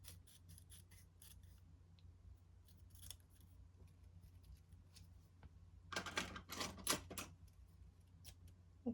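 Scissors cutting a sheet of planner paper in half: faint, scattered snips at first, then a quick, louder run of crisp closing strokes near the end, close to the microphone in a quiet room.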